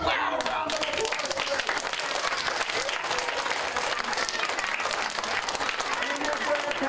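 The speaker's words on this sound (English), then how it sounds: "Let's have a really loud round of applause." A loud, sustained round of applause from an audience at a children's summer reading and exercise challenge event, dense and steady throughout with crowd noise mixed in.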